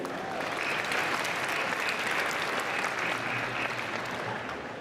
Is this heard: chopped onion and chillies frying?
no